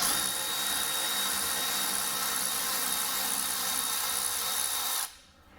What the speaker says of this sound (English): I'm going to use the electric ratchet to drive it out